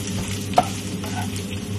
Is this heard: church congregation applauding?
no